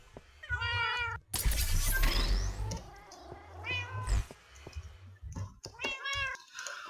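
Minecraft cats meowing repeatedly in clear, close bursts, several overlapping cries spread across the clip alongside clicking and tapping sounds.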